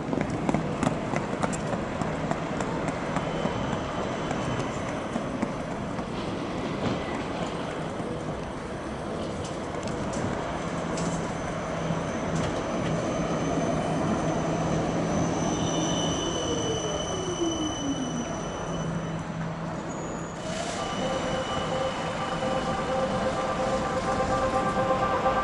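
An Ulm tram pulls away from the Hauptbahnhof stop, its wheels squealing and rails rumbling steadily throughout, with tonal whines rising and shifting near the end.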